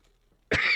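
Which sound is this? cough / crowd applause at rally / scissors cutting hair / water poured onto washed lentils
cough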